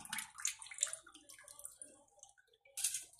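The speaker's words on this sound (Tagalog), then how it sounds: "Buhos lang po natin yung tubig." Water pours and splashes into a container, soft and close, in a few short gushes with brief trickles between.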